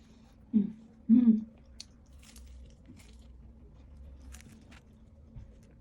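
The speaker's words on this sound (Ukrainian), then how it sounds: "Кусаю. Хрумтить." Bites into flaky puff pastry give two sharp, close crunches early on, followed by quieter chewing and small crackles under a faint background hum.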